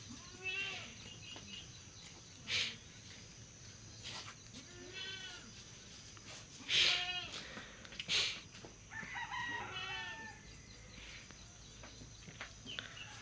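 Goats bleat several times over a quiet outdoor scene, with rooster-like crowing cries mixed in, the calls spaced out at moderate distance.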